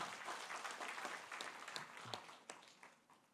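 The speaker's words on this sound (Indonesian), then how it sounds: "Tepuk tangan sekali lagi untuk Prof." Audience applause at a professorial inauguration ceremony in Indonesia, a steady crowd of clapping hands that fades out toward the end with a few scattered sharper claps.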